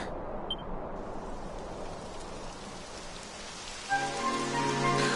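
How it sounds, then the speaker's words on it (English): Rain falls steadily in the video game Dragon Quest XI, a soft, even hiss of drops throughout, with a brighter musical tone entering near the end. "It would have to go and start raining, wouldn't it?"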